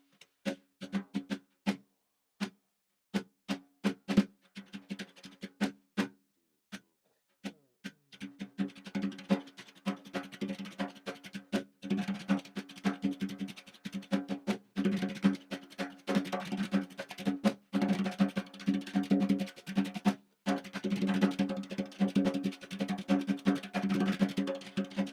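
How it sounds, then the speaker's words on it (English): R&B and funk style tap dancing: crisp, sharp taps in syncopated bursts, sparse at first and then thickening into busy rhythmic runs over a low humming tone, close and clear with no voices. "But then Gregory would add a little R&B, a little funk to his taps"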